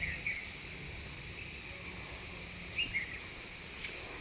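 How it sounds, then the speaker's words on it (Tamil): Sparrows chirp a few times, brief and faint, over a steady insect drone in a home garden with gooseberry (amla) trees. "குருவிகள் சத்தம்லாம் கேட்குதுங்களா?"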